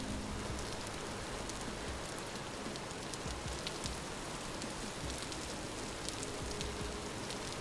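Steady rain falling in the video game Vintage Story, a dense continuous hiss of drops on surfaces that holds at an even level throughout, with no talk.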